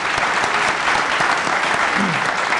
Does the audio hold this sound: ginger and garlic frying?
no